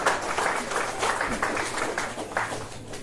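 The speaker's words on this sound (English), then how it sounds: "One more round of applause, please, for Congressperson Terry Sewell." Applause at a news conference for Congressperson Terry Sewell, a moderately loud patter of clapping with some voices mixed in, holding steady throughout.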